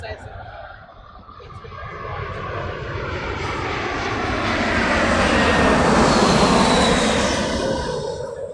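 A Qatar Airways jet airliner banking over reservoirs near Heathrow, its engine roar building from a distant whoosh to a loud, broad rumble as it passes, with someone talking over it.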